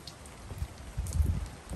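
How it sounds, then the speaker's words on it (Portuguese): Light drizzle falls outdoors at a foggy scenic lookout near a rural restaurant, a faint soft patter with a few small drops and low gusts, no voices. "cheio de neblina, chuviscando,"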